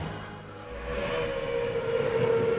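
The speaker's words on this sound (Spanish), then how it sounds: "Se escuchó silbar la locomotora." A steam locomotive whistle at a railway station platform, a sustained tonal blast rising in strength over rumbling background noise, heard alone without talk.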